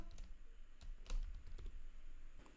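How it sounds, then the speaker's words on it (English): Typing on a computer keyboard while entering code, heard as quiet, close key clicks in an irregular patter. "I'll type in the curly braces. I'll type in role"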